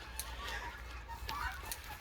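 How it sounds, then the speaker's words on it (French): Caged chickens on a farm at Hyères, twenty birds to a small cage under artificial light, cluck faintly in a brief, murmuring stretch beneath soft background noise. "Et 20 poulets par cage et ils n'ont que de la lumière artificielle"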